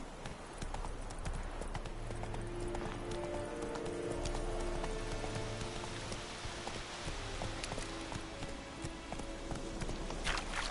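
Hooves of the horse Roach pound in a steady galloping clip-clop in the video game Witcher 3, loud and continuous over a faint rain-like hiss, with a low rumble underneath.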